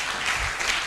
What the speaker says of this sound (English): I want us to put our hands together for him again.